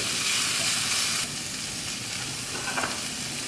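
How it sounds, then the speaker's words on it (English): Sago pearls being stir-fried in a big wok make a continuous close sizzle that is louder at first, then settles lower, with a brief scrape of stirring toward the end. "It's useful to have a big wok like this, so that we can stir fry easily"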